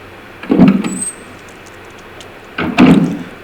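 In Resident Evil 1, a door swings open into a new room, producing two close, distinct creaking bursts about two seconds apart over a quiet background hum.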